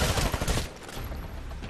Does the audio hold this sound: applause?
no